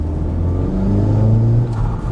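Turbocharged Honda on a KTuner stage 1.1 tune pulling under part throttle, a loud close engine drone with steadily rising pitch across a short burst, no talking.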